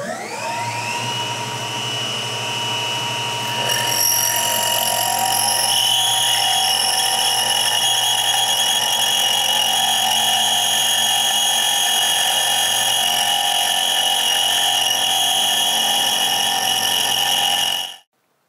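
A high-pitched machine whine of a drill spinning fast with spindle speed set too high and feed too low, steady and loud, with sharp tonal overtones that jump higher partway through and hold until it stops.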